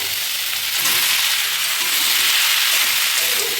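Chicken and onions fry in a pan for chili chicken, making a loud, close, unbroken sizzle with a faint scrape of stirring and no speech.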